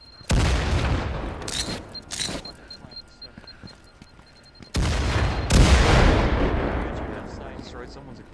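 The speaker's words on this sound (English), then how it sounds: "I'm gonna start throwing grenades in there." Grenade explosions in the shooter game Firewall Zero Hour: two loud, close booms a few seconds apart, each followed by a rumbling, fading tail, with smaller crackling bursts between them and a voice speaking briefly.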